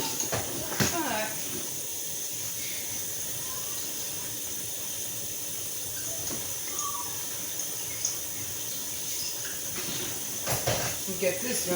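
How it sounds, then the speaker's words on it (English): A pot of water boils on a stove, a constant soft hiss and bubbling under a few sharp clinks and kitchen knocks, with a person talking quietly at times. "oh, it's already boiling"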